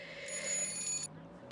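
A telephone rings indoors with a trilling electronic bell lasting about a second, moderately quiet, followed by a brief pause and the faint start of the next ring.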